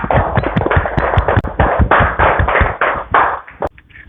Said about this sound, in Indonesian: Kita tepuk tangan dulu untuk kelompok 2, Nak